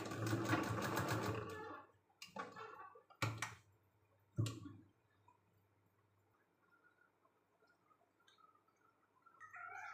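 Household sewing machine stitching a finishing line over a decorative design on a blouse sleeve, a loud continuous whirring run of about two seconds followed by several short bursts, then quiet.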